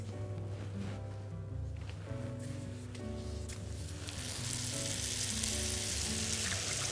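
Sheets of golash pastry fry in hot ghee in a pan, a steady bubbling sizzle that grows louder and brighter partway through, with soft music underneath and no voices.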